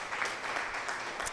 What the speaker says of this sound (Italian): facciamo anche un bel applausi, applauso